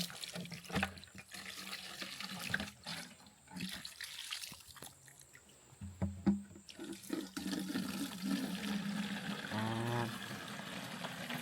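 Water scooped and poured in a remote rural Lao village, with uneven splashes and sloshing, a sharp knock midway and a longer trickling pour toward the end, close by with no talking.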